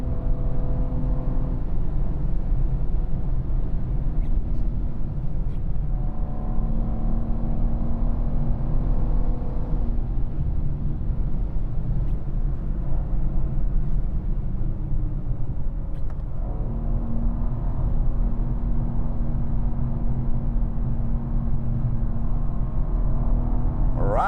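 Constant low engine rumble and road drone heard from inside a moving BMW M2, partly artificial engine sound played in the cabin, steady and loud with occasional shifts in pitch as it accelerates.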